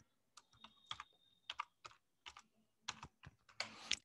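Someone types on a computer keyboard, entering a rename command for a database table: irregular bursts of crisp key clicks, close and quiet, ending in a quick flurry.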